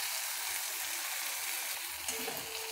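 Onions and freshly added tomatoes sizzle steadily in a hot pan for egg bhurji, a loud continuous frying hiss with light stirring near the end and no talking.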